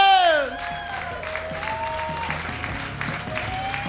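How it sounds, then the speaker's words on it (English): A comedy club audience gives a moderate round of applause for comedian Brian Aldridge, steady clapping following a brief sung or drawn-out voice at the start. "thank you all so much for that medium amount of applause"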